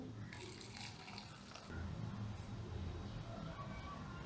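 Cooking water being poured off boiled chana dal into a separate vessel, a faint splash and trickle that swells into a steadier gushing pour midway through.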